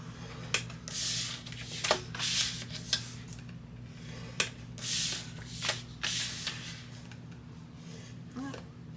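Cardstock pieces being scored at half-inch marks on a scoring board, giving a series of quiet, sharp scraping strokes at irregular intervals over a steady low hum.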